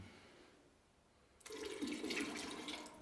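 Water is poured into paint being thinned for HVLP spraying, and after a quiet second and a half a close, splashing trickle of liquid begins and runs steadily to the end.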